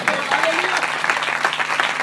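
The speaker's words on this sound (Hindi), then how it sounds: "जोरदार तालियां, बहुत खूबसूरत चीज है।" A church audience at a gospel gathering breaks into loud, dense applause that holds steady for the whole stretch, with voices faintly mixed in.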